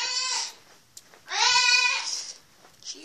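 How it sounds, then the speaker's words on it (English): A goat bleats three times, loud and near: a long wavering cry, a louder, longer call after a short pause, then a brief faint bleat at the end. "That's not a chipmunk, that's a goat."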